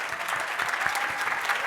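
Audience applause at a small business summit's opening, welcoming the moderator, a CEO: dense, steady clapping from a crowd that holds level throughout.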